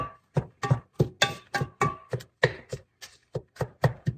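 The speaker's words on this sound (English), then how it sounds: "breaking up the meat so that we get meat across every burrito" Meat being broken up in a pan while it cooks, steady repeated thuds and scrapes of a utensil, about three a second, close and clear with no talk.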